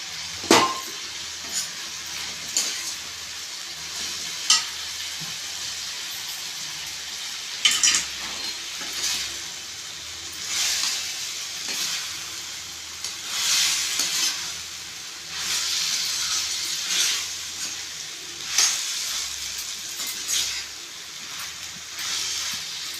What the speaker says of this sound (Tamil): பாவக்காய் நம்ம முன்னாடியே கொஞ்சம் வதக்கி வச்சுக்கணும் குழம்புக்கு.